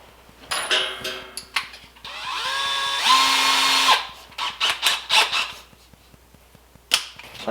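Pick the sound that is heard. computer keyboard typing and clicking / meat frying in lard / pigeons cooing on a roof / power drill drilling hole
power drill drilling hole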